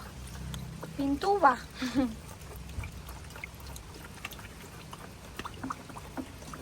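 Blue top coat house paint is poured into a container and thinned with water, a short close liquid pour and stir, with people talking over it before quieter handling noises follow.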